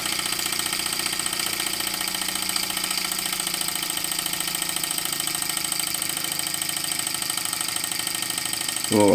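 A model hit and miss engine runs steadily under load from a Baker fan, its continuous mechanical drone and rapid beat holding even and loud throughout, with a sharp rattling burst at the very end.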